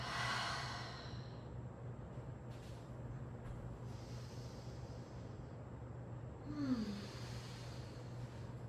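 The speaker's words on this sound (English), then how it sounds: "Breathing out." A slow yoga exhalation, a soft airy breath out near the start, then quieter breathy sighs over a steady low hum, with another audible breath near the end.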